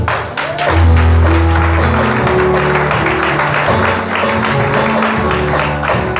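Church congregation cheering and acclaiming the Lord, a loud sustained crowd roar with clapping and shouts over sustained music chords, holding steady for several seconds.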